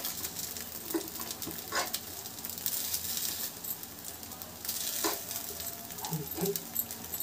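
Semolina appe sizzle in an appe pan, a continuous soft frying hiss broken by scattered light clicks and scrapes as the pieces are turned.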